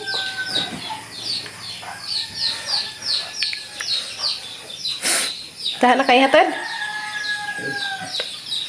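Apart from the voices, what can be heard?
chickens clucking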